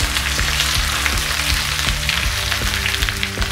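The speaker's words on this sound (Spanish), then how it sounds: "Lo que queremos es de que se doren ligeramente los pepinos. Siempre trabájenlo a fuego bajo." Sliced cucumbers fry gently in a pan over low heat with a steady, dense sizzle and occasional soft clicks of stirring, loud and continuous with no talking.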